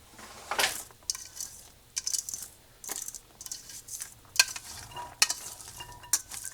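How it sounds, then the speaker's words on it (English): Soaked, rinsed potato pieces tumble into a pot for canning turkey hash, making repeated quiet clattering and scraping bursts against the metal. "I'm going to add my potatoes."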